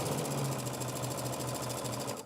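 A sewing machine stitches quilt block pieces together, its needle chattering in a fast, even, close mechanical rhythm that runs steadily and then stops.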